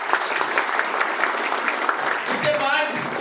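Audience applause at a motivational success-story talk, a dense steady clatter of many hands clapping close by for the whole stretch, with faint voices mixed in near the end.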